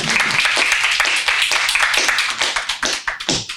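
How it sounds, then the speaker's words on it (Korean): An audience claps at a Korean political communication debate forum, a lively burst of hand claps that thins into distinct, separated claps toward the end. "박수 부탁드리겠습니다."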